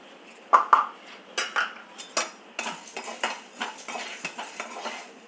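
Roasted gram being stirred in a metal pan with a spoon, a string of sharp clinks and scrapes in an uneven rhythm, close and fairly clear with no talk.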